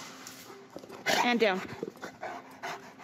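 A four-year-old Rottweiler service dog whimpers and pants close by with quick breathy sounds, while people talk over it.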